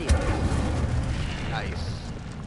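Fiery Incendio spell blasts in the Hogwarts Legacy video game, a loud booming whoosh and rumbling burst with combat effects layered over it.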